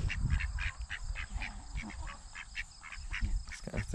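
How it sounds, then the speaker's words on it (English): A duck quacks repeatedly at a firewood shed building site, a steady run of nasal quacks over low outdoor rumble and handling noise, fairly close and moderately loud. "The duck wants it."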